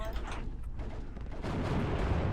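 Artillery fire in the WW2 real-time strategy game Steel Division 2, heard as a dense, rumbling barrage that swells louder about halfway through and holds steady to the end.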